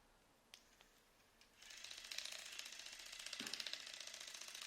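A Lumispa facial cleansing brush clicks on with a button press, then hums with a soft, steady buzzing vibration, quiet and close.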